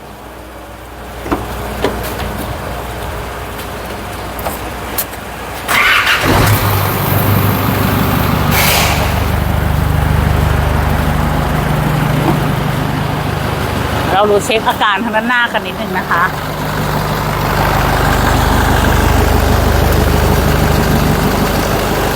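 A diesel car engine cranks and starts cold, then settles into a loud steady low idle with a faint rattle, while someone talks over it.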